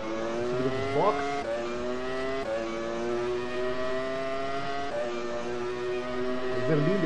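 A racing car engine in rFactor 2 at Interlagos whines at high pitch, rising with each gear and briefly dropping at shifts, steady and fairly quiet throughout.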